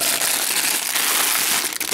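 Plastic wrapping on a knockoff Lego Chima set crinkles and rips close by in a continuous, rustling tear, with a few sharper crackles along the way.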